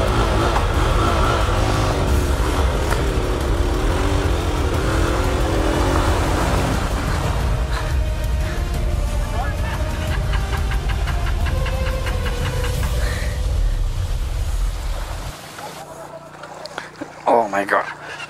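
A motorcycle with a water-flooded carburetor runs with a rough, uneven engine, loud and close for about fifteen seconds before cutting out abruptly. People talk over it.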